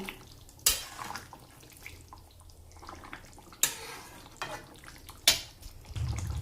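Garam masala powder being stirred into a pot of homemade chicken curry with potatoes, three sharp spoon scrapes against the pot spaced across a quiet simmering background.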